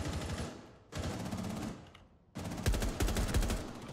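Video game gunfire in a tactical shooter, bursts of rapid automatic shots in several sharp volleys separated by short gaps, close and loud with no talk.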